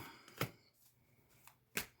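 Soft riffling clicks from tarot cards being shuffled by hand, two sharp brief bursts with faint handling in between, quiet and close in a still room.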